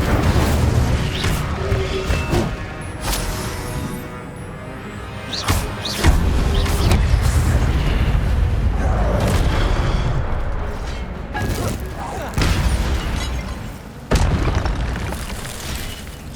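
The Incendio fire spell is cast in Hogwarts Legacy, giving booming, burst-like blasts and crackling fiery rumbles over a dense, continuous game soundscape.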